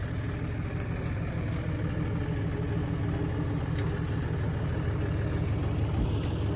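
A tractor engine runs at a steady idle while hitched to a 2024 Jagatjit straw reaper (bhusa machine). The low, even rumble with a constant mechanical hum stays loud and close throughout, with no voices.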